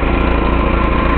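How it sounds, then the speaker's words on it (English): A small unbranded China-made engine on a cheap China pressure cleaner runs loud and close, a steady buzzing drone with a fast regular pulse and no voices. "it's a China engine and a China pressure cleaner"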